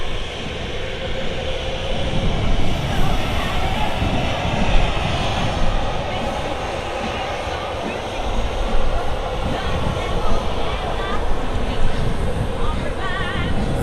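Ryanair airliner at Manchester Airport, a steady broad jet engine roar holding loud and close for the whole stretch, with voices talking faintly underneath.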